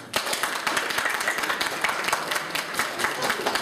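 A group of children claps together in a classroom, a brisk, fairly close patter of many hands that goes on steadily without talk.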